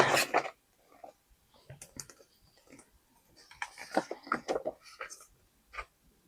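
Scissors cut stickers for a planner set-up, producing a series of close, crisp snips and paper rustles in uneven clusters, with some faint breathy vocal sounds between them.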